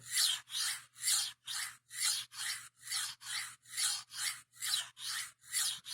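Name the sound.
blade being sharpened on a whetstone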